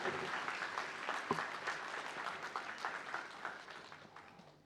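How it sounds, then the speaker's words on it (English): An audience at a diploma graduation ceremony applauds the graduates with sustained, dense clapping that slowly fades toward the end. "Let's once again show our appreciation by giving our graduates a well-deserved round of applause for their remarkable achievements."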